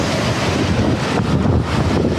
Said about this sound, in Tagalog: Pero ang lakas na kasi ng hangin